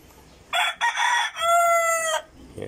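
A Rhode Island rooster crows loudly and close by, one long, harsh cock-a-doodle-doo with a broken start, heard alone against quiet farmyard background.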